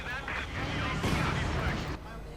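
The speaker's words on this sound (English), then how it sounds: "we got a howitzer up now for Redwings, like the Feldhaubitz, bringing up some artillery" A howitzer fires in Company of Heroes 2, a World War II strategy game: dense, rumbling booms of artillery fire roll on without a break beneath steady talk.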